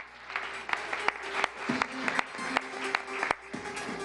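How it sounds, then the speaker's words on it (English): An audience at an awards ceremony applauds, with a run of moderately loud, fairly sparse claps over a low hum in the room. "Another big round of applause."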